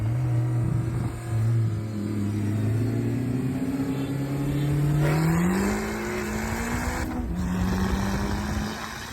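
Several cars race past, among them a Fox body, with engines accelerating and revving as pitch climbs through gear changes, a loud continuous drone with a brief shift and no talking.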